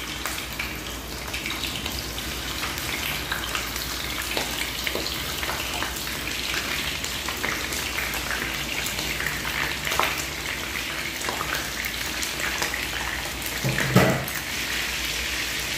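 Sardines sizzle in a hot pan for a vegetable lunch dish, a steady dense crackling hiss of oil throughout, with occasional pops and a brief clatter near the end.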